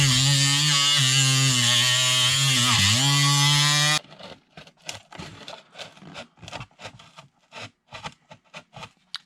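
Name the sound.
Dremel rotary tool with cutoff wheel carving a boat hull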